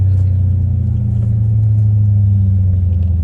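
A Dodge Hellcat Redeye engine holds a deep, steady low rumble at close range, droning evenly throughout with no talk over it.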